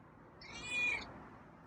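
A feral cat gives one short, raspy meow, fairly quiet and close, standing alone against a faint background hush.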